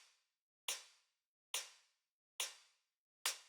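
Techno open hi-hat sample processed with effects, struck four times at an even pace, each hit a bright crisp sizzle that decays quickly into silence.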